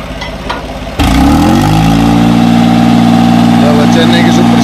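A 2001 New Holland 3630 tractor engine starts after a moment of quiet background and then settles into a loud, steady, close idle with a deep, even throb, a voice briefly heard before it fires up.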